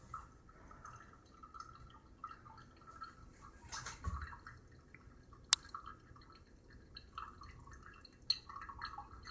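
Brewed coffee drips steadily from a pour-over filter into a carafe, faint scattered drips and trickles with a couple of sharper plinks against quiet room noise.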